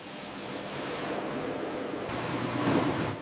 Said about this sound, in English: Every square centimeter of the skin is scrubbed by water at pinpoint pressure.